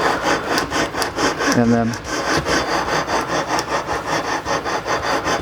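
A file works the fret ends on a Warmoth Strat-style guitar neck, giving steady, close rasping strokes in an even back-and-forth rhythm throughout. A voice speaks briefly near the start.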